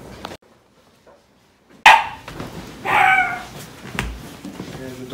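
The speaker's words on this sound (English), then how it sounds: "There's a dog." A dog on a gloomy, rainy day gives a couple of loud, sharp barks nearby after a quiet stretch, with some background noise around them.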